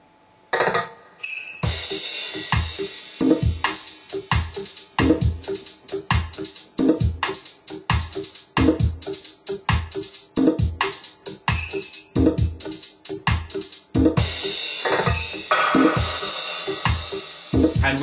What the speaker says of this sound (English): we're going to feature the organ as well, which untreated sounds like this.